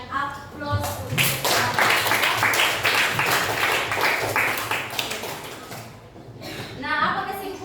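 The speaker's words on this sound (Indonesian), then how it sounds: "Mari kita berikan aplaus untuk" A classroom of students claps for presenting groups, a sustained patter of applause at moderate distance that swells and fades, with voices mixed in.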